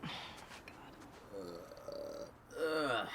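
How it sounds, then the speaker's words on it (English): A burp rises out of Let's Play chatter for The Last of Us Part 2, a short throaty eructation that is fairly loud and close, with voices talking around it. "I burped"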